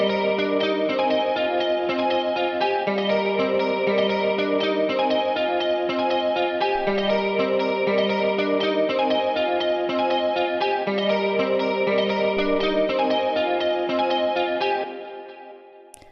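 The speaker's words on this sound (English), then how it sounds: "And we're going to add a delay." A processed electric guitar loops a repeating melody for a long stretch, notes echoing into one another, then the sound fades out at the end.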